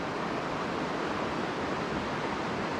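Fast-flowing mountain stream current in Western North Carolina trout water, a dense, steady rushing wash of moving water that fills the scene evenly without breaks or voices.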